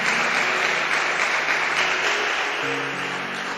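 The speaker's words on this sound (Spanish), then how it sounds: "Y Él merece por lo menos un aplauso en esta hora" Applause from a church youth congregation in Soacha during a sermon, a dense, steady wash of clapping heard alone and close, fading slightly toward the end.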